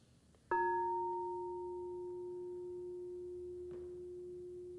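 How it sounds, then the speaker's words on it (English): A single clear meditation bell strike rings out and decays slowly into a long, pure sustained tone against a quiet background. "Now here's the sound of the bell."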